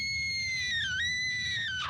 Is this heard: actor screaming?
yes